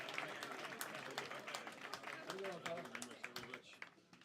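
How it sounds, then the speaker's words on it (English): Comedy club audience giving a round of applause to welcome a comedian to the stage, dense close clapping with cheers and a host's voice talking over it throughout. "On three, start the round of applause."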